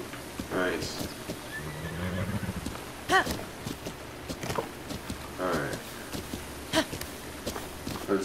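A horse in the video game Zelda Breath of the Wild neighs twice in long whinnies, with thudding hoofbeats and clip-clop steps scattered between, while a player talks over the game sounds.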